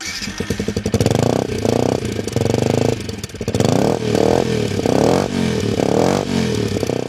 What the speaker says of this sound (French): une ligne en inox et en aluminium typiquement tout-terrain qui donne beaucoup de voix